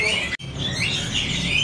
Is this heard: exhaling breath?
no